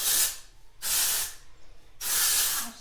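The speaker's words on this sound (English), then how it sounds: "I'm just gonna spray a little bit of this Hairitage texture spray in there" Hairitage texture spray hisses from an aerosol can into hair in three separate bursts, each lasting about half a second to a second, close and fairly quiet, with short pauses between them.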